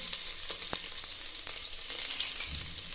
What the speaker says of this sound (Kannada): ಮೆಣಸಿನ್ಕಾಯಿ ಸ್ವಲ್ಪ ಫ್ರೈ ಆಗಲಿ.